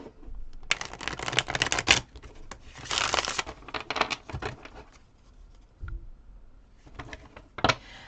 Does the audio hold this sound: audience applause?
no